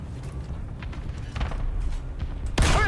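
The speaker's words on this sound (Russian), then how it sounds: "Выстрел!" Mechanical creaks and clanks of a tank in the video game War Thunder rumble along before a single loud tank cannon blast bursts out near the end.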